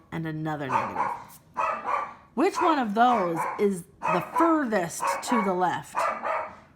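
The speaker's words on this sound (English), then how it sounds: "I apologize about the dog barking in the background." A dog barks in sharp, repeated bursts close by, running over and between a person's steady talking throughout.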